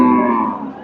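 A single short moo from an eight-month pregnant crossbred cow at a cattle market, loud, close and heard alone.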